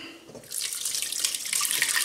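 Liquid whey tipped out during homemade cheese making pours and splashes steadily, starting softly and swelling into a loud, continuous hissing stream after about half a second.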